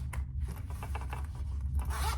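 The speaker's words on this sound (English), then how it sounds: "You have your zipper pockets." A zipper on a cork wallet pocket is pulled in quick, short raspy runs, close and fairly quiet, with a few small scraping rubs in between.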